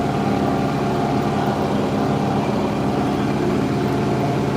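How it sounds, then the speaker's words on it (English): A steady IH 4786 tractor engine drone at about 2100 RPM runs evenly throughout, a constant mid-level mechanical hum with no pauses or changes in speed. "this is an early tractor for a digital readout running at about 2100 RPM"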